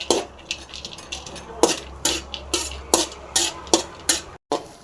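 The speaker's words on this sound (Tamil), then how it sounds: "இந்த முந்திரி போட்டு வறுத்துடலாம்" Cashews frying in a pan as a metal spoon stirs and scrapes, giving a series of sharp, regular clinks over a low sizzle, close by with no talk.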